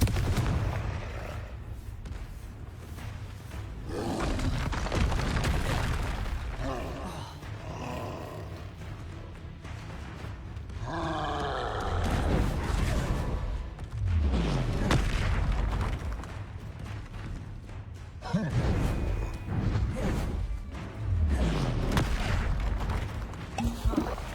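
Hogwarts Legacy combat with the Confringo explosive spell: repeated deep booming blasts and roaring bursts recur across the stretch amid whooshing magic and clashing effects, loud and punchy.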